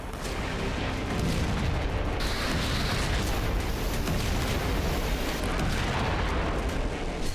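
Artillery fire and explosions during a Ukrainian attack on Russian tanks near Pokrovsk, a loud, unbroken roar of rumbling blasts and booms that runs throughout without any talking.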